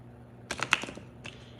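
Tarot cards are shuffled by hand, giving a short burst of crisp riffling flutter followed after a pause by a brief second papery flick, fairly quiet and with no voice.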